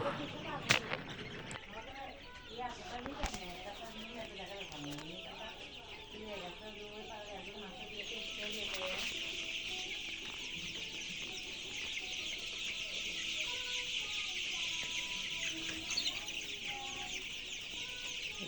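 Chickens and guinea fowl cluck and call on a poultry farm, a steady bright chorus of many birds that grows denser midway, with some talk underneath and an occasional sharp knock.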